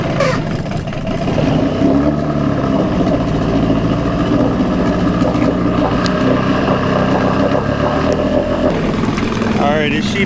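Jon boat outboard motor pull-started with the choke out, catching into a steady, loud mechanical drone that runs throughout, with voices talking over it.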